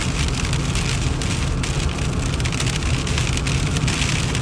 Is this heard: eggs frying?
no